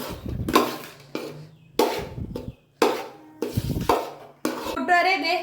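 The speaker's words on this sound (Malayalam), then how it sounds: "എല്ലാം കൂടി നല്ല രീതിയിൽ ഇളക്കി യോജിപ്പിച്ചുകൊണ്ടിരിക്കുകയാണ് കേട്ടോ." Egg fried rice being stirred and scraped in a pan, heard as five or six loud, close bursts of metallic clatter and scraping with short quieter pauses between them, and no speech.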